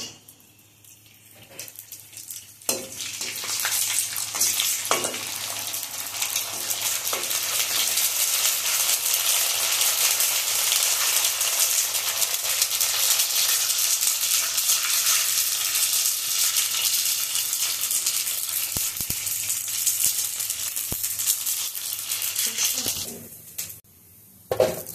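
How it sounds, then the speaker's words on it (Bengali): Fuchka puris fry in hot oil in a wok, a loud, continuous close sizzle that starts after a quiet opening and holds for about twenty seconds before dropping away. "তেল গরম হয়ে গেছে, ফুচকাগুলো ভেজে নেব"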